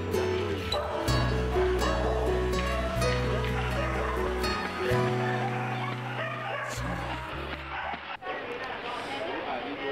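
Dogs bark and yip in a busy animal shelter kennel, with repeated barks from several animals overlapping at moderate distance and some whimpering, set against a steady background hum of activity.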